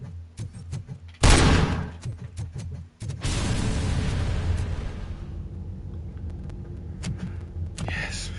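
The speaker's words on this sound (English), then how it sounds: "I need to shoot this guy in the head." Gunfire rings out while shooting an enemy in Robocop: Rogue City, with a series of loud, close shots and a sudden heavy blast. A rumbling roar follows and trails off into scattered sharper hits.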